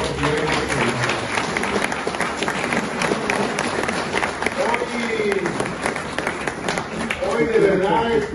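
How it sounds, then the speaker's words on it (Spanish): A crowd at an outdoor fertilizer-delivery event applauds for the governor, steady dense clapping lasting several seconds and swelling toward the end, with a voice talking over it. "Les voy a pedir que le enviemos desde aquí un caluroso aplauso"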